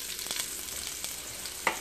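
Onions fry in hot oil with baking soda, a steady close sizzle and crackle with faint stirring scrapes and a small clink near the end.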